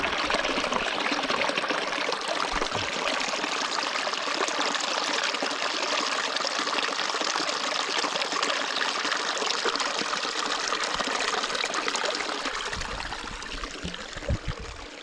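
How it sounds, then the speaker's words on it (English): A small, shallow stream with little water left trickles and burbles steadily at close range for the whole stretch, a dense continuous splashing wash that fades slightly near the end, with no voices. "Impossible to try and copy the sound of a little bit of water flowing."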